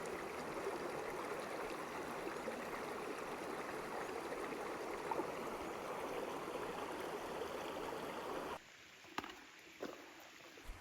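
Creek water rushes steadily at a crossing on a bushwalking trail in D'Aguilar National Park, a continuous faint wash that cuts off near the end, leaving a few scattered knocks.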